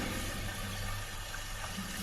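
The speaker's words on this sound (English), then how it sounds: "this valve, we turn it to drain the water" Water rushing and draining through a turned valve in a cellar in Tesla Effect, a dense, steady gurgling wash that stays loud and unbroken throughout.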